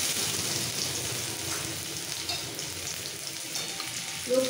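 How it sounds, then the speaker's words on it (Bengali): Garlic paste with a bay leaf sizzles in hot oil for a chicken curry, a steady hissing crackle at moderate volume with no voices over it. "রসুনটা ভাজবো না, তেলের মধ্যে একটু মিক্স করে দিয়ে দেবো"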